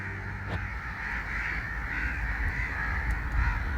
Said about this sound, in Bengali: এত পরিমাণে কাক এখানে প্রচুর কাক পাকিস্তানে এত পরিমাণে কাক